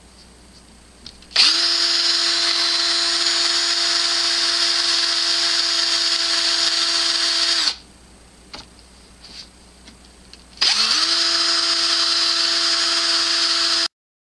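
A small high-speed rotary tool polishing a silver ring with polishing compound whines steadily for several seconds, stops, then starts again, with light tapping and clicks in the pause between runs.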